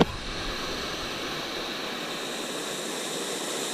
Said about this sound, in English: There's a cool waterfall, that's for sure.